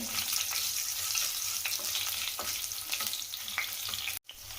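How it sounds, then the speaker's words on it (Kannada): Crushed garlic sizzles and fries in a pan while cooking banana plantain palya, a steady close crackle with faint stirring scrapes and a brief dropout near the end. "ಇದನ್ನು ಹಾಕೊಂಡು ಒಂದೆರಡು ನಿಮಿಷ ನೋಡಿ ಈ ರೀತಿ ಫ್ರೈ ಮಾಡ್ಕೊಳ್ತೀನಿ"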